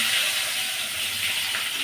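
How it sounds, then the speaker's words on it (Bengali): Chopped onions hit hot oil for a small-fish curry, giving a loud, steady, close hiss of sizzling that holds without a break for a couple of seconds. "যে পেঁয়াজগুলো কুচিয়ে রেখেছিলাম এবার সেটা দিয়ে দেবো"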